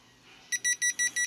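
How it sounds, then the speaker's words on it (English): A phone just taken out of a Faraday can gives five quick, bright beeps in an even rhythm, close and clear after a brief quiet moment. "It starts beeping"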